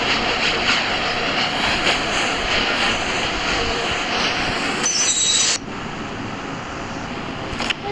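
Train running through a station in the mobile game Indian Bike Driving 3D, a steady loud rumbling engine drone with a brief high whine midway, no talk.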